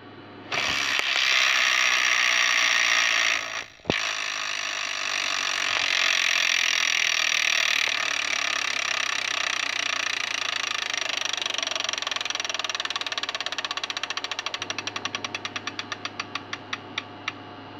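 The wheel of an electronic Wheel of Fortune tabletop game spins with a loud whirring electronic buzz, then rattles through rapid ticks that slow and space out as the wheel comes to rest.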